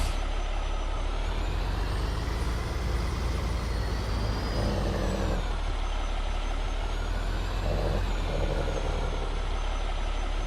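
A truck in the Farming Simulator 22 video game rumbles steadily and loudly throughout, with two short hissing air-brake releases partway through and no one talking.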